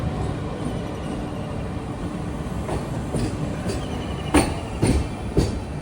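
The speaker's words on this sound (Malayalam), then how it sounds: "ട്രെയിൻ ഇപ്പോൾ സുറാവലി സ്റ്റേഷനിലേക്ക് ഇതാ എത്തുകയാണ്" Konkan Railway express train pulling into small Surawali station in the monsoon, a continuous low rumble of rolling carriages heard from on board with a few louder rhythmic wheel clacks toward the end.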